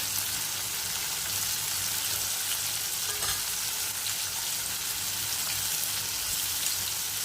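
Bitter gourd with chili powder and spice masala sautés in a pan, giving a steady, close hiss of sizzling with faint crackles and no voices.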